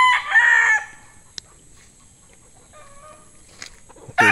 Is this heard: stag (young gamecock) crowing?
yes